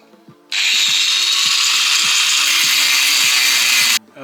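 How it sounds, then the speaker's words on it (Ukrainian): An angle grinder cutting through a broken part screams at high pitch for about three and a half seconds, steady and loud, with faint rhythmic ticking underneath before and during. "Візьму я болгарку і просто зріжу"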